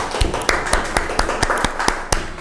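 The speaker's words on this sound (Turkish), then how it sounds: "Bir alkış alabilir miyiz?" A studio audience claps in a steady burst of sharp, distinct hand claps, close and fairly loud, with a rough repeating rhythm through the whole moment and no talking.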